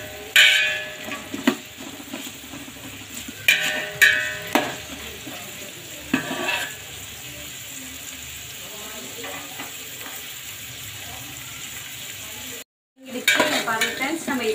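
Onions sauté in a pan for chicken biryani, sizzling steadily while a spoon clinks and scrapes against the metal in intermittent stirring strokes, with a brief cut near the end.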